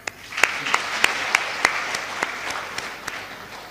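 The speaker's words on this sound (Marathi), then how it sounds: "तुम्ही सगळेच जण टाळ्या वाजवताना कशा वाजवता माहिती आहे? हे अशा वाजवा बरं एकदा." An audience claps hands together in a hall, a loose series of sharp, fairly regular claps about three per second over a steady crowd background, with no talk.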